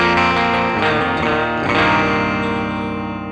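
Electric guitar run through a NU-X Mighty Plug Pro on a deluxe reverb amp model, with delay, distortion, chorus and reverb stacked: sustained, heavily processed chords ring out loud and continuous, echoes smearing into a dense wash.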